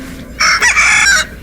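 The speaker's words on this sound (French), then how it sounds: "il s'agit du caquettement d'un jeune poulet de l'espèce Gallus gallus domesticus indigène à la Terre." A young domestic chicken, Gallus gallus domesticus, giving one loud close cluck-like call lasting under a second, alone with no voices.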